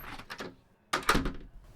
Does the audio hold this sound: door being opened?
yes